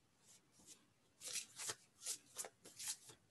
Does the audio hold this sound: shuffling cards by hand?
yes